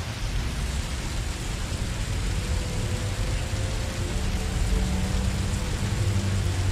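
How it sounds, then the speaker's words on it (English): Steady rain falling in the video game Heavy Rain, a dense, even hiss of downpour with a low rumbling undertone, continuous and unchanging throughout, with no voices. "What's Madison doing on this fine rainy morning?"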